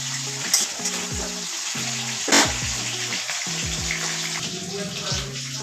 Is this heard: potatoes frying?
yes